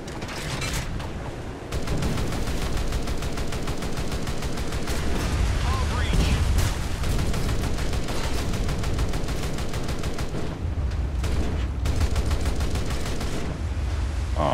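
Naval gunfire in War Thunder realistic naval combat, with dense, rapid volleys of ship guns rattling and booming almost without pause, loud and close over a low rumble.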